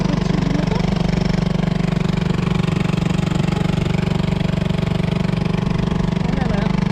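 A small motor runs close by at a steady idle while on holiday, with a constant low hum and a rapid regular chugging that never changes pace. Faint voices may sit under the engine noise.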